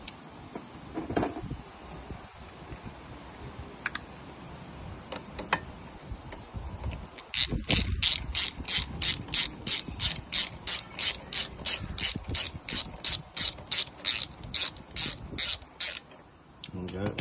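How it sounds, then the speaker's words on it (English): A 5mm Allen key undoing the brake locking bolt on a Sinnis Terrain 125cc motorcycle, ending in a long run of quick, evenly spaced ratchet clicks after a few earlier scattered knocks, close and fairly loud. "Then actually undo the locking bolt that's inside."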